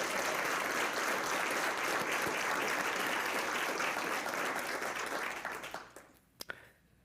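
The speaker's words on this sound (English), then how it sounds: "Can we have a round of applause for FATV?" Dense, steady applause from a crowd at a congressional luncheon fills the room loudly for about five and a half seconds, then thins out into a few scattered final claps.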